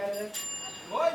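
A bright bicycle-style bell rings once as a subscribe-button chime, a short clear ding over quiet background with faint tonal hum.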